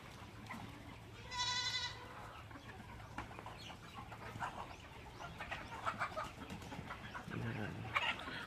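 Chickens and goats at a farm waiting for their morning feed, with a clear rooster-like cluck or crow burst early on and scattered clucks, bleats and rustling throughout, moderately close against steady farmyard ambience.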